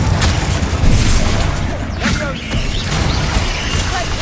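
Spell impacts and explosions from the Hogwarts Legacy game, a dense, noisy clash of booms, crashes and magical whooshes layered over a constant rumbling backdrop.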